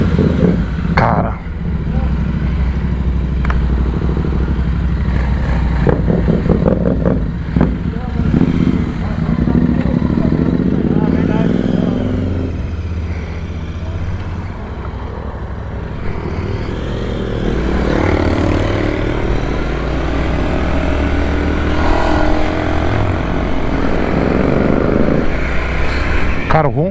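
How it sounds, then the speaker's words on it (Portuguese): Royal Enfield Interceptor 650 on a test ride, its twin-cylinder engine rumbling steadily up close with wind noise throughout, while someone talks over it for much of the ride. "o ronco da Continental tá show de bola"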